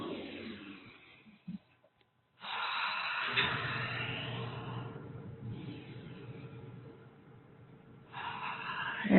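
Slow, steady breathing through a yoga flow session for swimmers working shoulders and back, with long airy inhales and exhales close to the mic, a brief pause near the start and a louder breath at the end.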